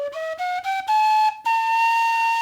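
A mushroom flute plays a harmonic major scale, a run of clear, breathy, whistle-like notes stepping upward one after another with short breaks, ending on a sustained high tone, heard alone without talking.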